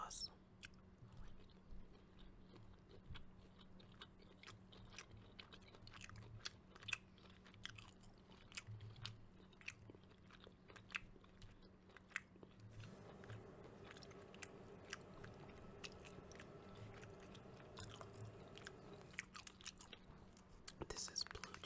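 Close-miked chewing of buffalo chicken salad with blue cheese dressing: soft wet bites and crunching chews repeat through the clip, with a low steady hum beneath and quiet murmured speech at times.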